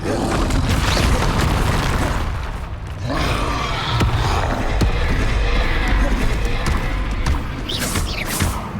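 Spell explosions from Confringo and Bombarda curses in Hogwarts Legacy, played on Xbox Series X: a steady run of loud booming blasts and crackling bursts over dense game noise, filling the whole stretch without pause.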